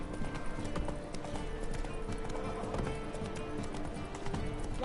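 Roach the horse gallops in The Witcher 3 video game, hooves pounding in a steady, fast clip-clop rhythm that runs unbroken and fairly loud throughout.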